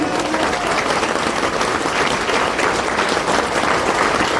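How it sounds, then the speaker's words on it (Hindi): Steady, dense applause from a large audience, loud and continuous with no break, a wash of many hands clapping at once. "तालियां बजा के दिखा सकते हैं क्या?"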